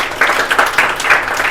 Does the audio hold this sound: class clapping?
yes